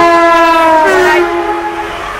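A Grand Central Class 180 train passes at Hadley Wood, giving a loud, steady tonal drone of stacked pitches that dips slightly in pitch partway through and then eases off, with no talking.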